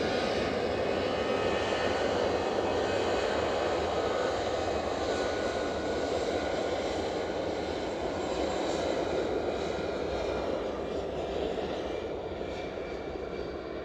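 A British Airways airliner in from London Heathrow rumbles at Edinburgh airport, a broad steady engine roar from a moderate distance that slowly fades toward the end.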